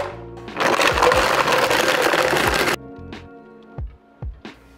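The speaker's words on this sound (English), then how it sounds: "we're just gonna add some ice and blend it here in our blender." A kitchen blender whirs loudly for about two seconds, crushing ice into a piña colada made with pineapple juice and coconut milk, then stops, leaving a few quieter clinks and handling knocks.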